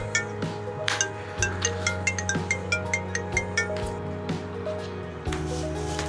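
A mobile phone ringtone plays a looping tinkling melody of bright chime-like notes over a sustained tone, repeating steadily and fairly close, with no talk over it.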